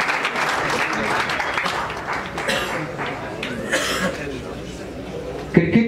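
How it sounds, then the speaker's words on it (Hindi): A crowd at a college prize ceremony applauds steadily for a football team captain, a sustained close clatter of clapping with scattered coughs and chatter mixed in, plus a sharp knock near the end. "आपकी भरपूर तालियों में"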